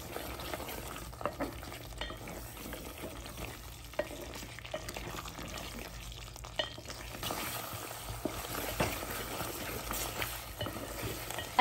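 Mutton coated in spices, including garam masala and chaat masala, roasts in a pan for Hyderabadi malai gosht, with a soft sizzle and the repeated scrape of stirring, fairly quiet and close.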